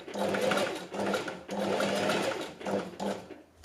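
A sewing machine runs in several bursts while stitching elastic onto underwear, with a steady mechanical whir that stops and restarts close to the microphone.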